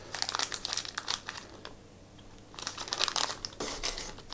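Wrapped pieces are opened from a heavy, packed box: close, loud crinkling and tearing of the wrapping in bursts, with a short quiet pause in the middle before the rustling starts again.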